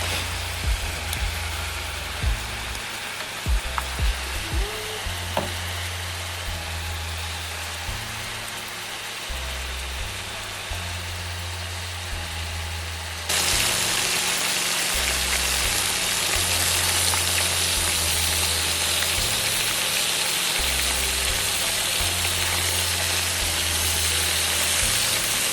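Thin pork slices fry in a hot pan with a steady, rain-like sizzle that grows louder and denser partway through, under a low rumbling hum and with no talk.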